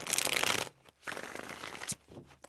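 Tarot cards are shuffled by hand in a series of papery riffling bursts, close and fairly loud, with short pauses between the shuffles.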